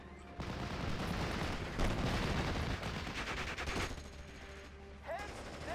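Sustained gunfire in a World War II Normandy hedgerow battle in the Steel Division: Normandy 44 strategy game, dense overlapping rifle and machine-gun bursts filling the scene with brief lulls and continued shots near the end.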